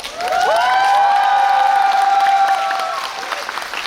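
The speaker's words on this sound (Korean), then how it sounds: "박수." At a musical curtain call in a Korean theatre, an audience applauds and cheers loudly and steadily while a bright sustained tone rings over the crowd, the applause tapering toward the end.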